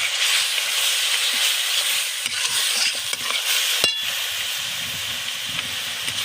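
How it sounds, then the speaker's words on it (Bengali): Turmeric, chili powder and salt fry in hot oil for a katla fish curry, giving a steady close sizzle and hiss with stirring scrapes throughout and one sharp metallic clank midway. "সব কিছু মশলা দিয়ে এবার আমি ভালোভাবে মশলাটাকে কষিয়ে নেব।"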